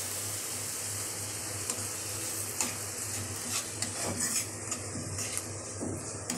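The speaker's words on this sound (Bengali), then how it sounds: "ভালো করে সবকটা একসাথে মিক্স করে নিব, নাড়াচাড়া করে নিব, ভালো করে কষিয়ে নিব।" Egg curry masala with grated tomato is stirred in a frying pan with soft spoon scrapes and light taps over a quiet, continuous sizzle and low hum, with no talking.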